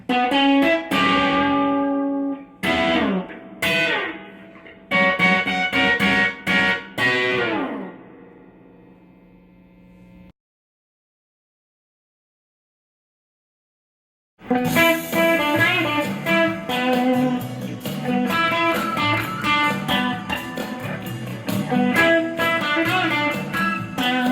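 Electric guitar plays the ending of a song with slides between notes, harmonically rich and processed, in two bursts split by a few seconds of silence, the second louder and denser.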